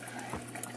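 Water falls into a tube of a fish-tank rhizosphere filter, a short continuous splashing, gurgling pour, fairly close and steady, with no talk.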